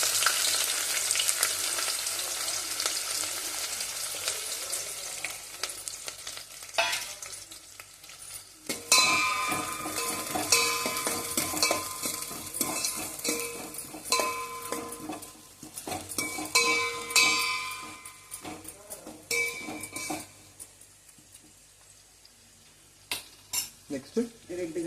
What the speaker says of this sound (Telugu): ఆయిల్ వేసుకొని మరగబెట్టుకోవాలి. ఫస్ట్ ఆనియన్స్ వేసుకుని